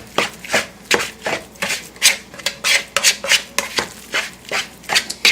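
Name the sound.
mixing turkey burger meat with teriyaki marinade in a bowl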